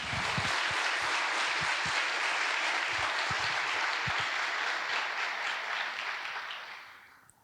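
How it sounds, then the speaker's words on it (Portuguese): An audience at a human-rights gathering with Leonardo Boff breaks into loud, sustained applause, many hands clapping densely before the sound thins and fades away at the end. "uma salva de palmas para dizer obrigado por tudo que vocês fizeram para salvar tantas pessoas"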